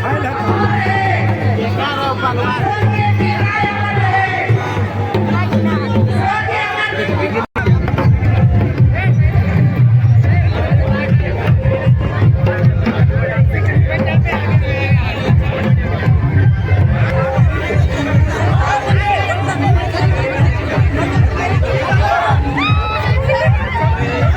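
A large outdoor political rally crowd for Tiger Jairam Mahto at Kedla fills the scene with a dense, continuous roar of chatter and cheering, steady and loud throughout, with a brief dropout just before the din swells even stronger.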